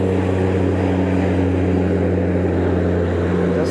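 A small propeller plane prepares for takeoff on a Bahamas trip, its engine droning in a steady, loud, even hum with a low buzzing tone that holds without pause.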